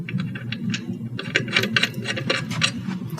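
An accessory twisting onto the end of an Imorden 40-inch carbon fiber camera slider, a run of close, quick scraping and clicking threads turning steadily for a few seconds with no voices.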